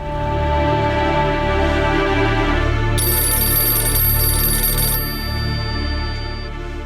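A telephone keeps ringing unanswered, with a loud, repeating electronic ringtone close by. A brighter ringing layer joins midway and then fades, and there is no talk.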